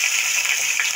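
One kilogram of chicken hitting hot oil with light-brown fried onions in a pan, a steady loud hissing sizzle with no pauses across a brief moment.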